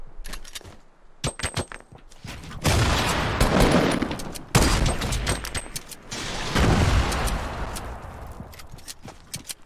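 Sniper and other gunfire in the Fortnite video game, repeated sharp booming shots and bursts in clusters, loud and close, with rattling fire between them.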